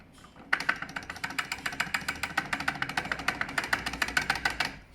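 A fast, steady metallic rattling clatter from a Chinese scooter's clutch over a low idling engine hum, loud and close, continuing evenly after the engine starts.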